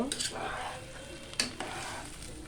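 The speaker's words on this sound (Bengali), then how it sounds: "মাংসটা দিয়ে লাড়াচাড়া দিব" Beef stirred in a pot while cooking biryani, close sizzling with scraping strokes of a spoon and a couple of brief metallic knocks against the pan.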